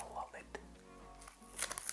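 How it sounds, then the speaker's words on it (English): Tape peeling off a freshly turned wooden coffee scoop in a cold workshop, heard as a quick series of crinkly, tearing bursts near the end over a low steady hum. "So let's take this tape off and see how we did."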